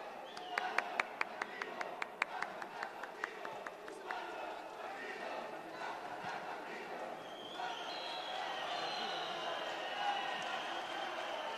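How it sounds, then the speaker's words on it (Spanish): Audience clapping to welcome the president at a decentralized Council of Ministers session in Cerro de Pasco, Peru, opening with a few distinct rhythmic claps, then a busy crowd murmur with voices rising over it. "Fuerte las palmas para el señor presidente de la República."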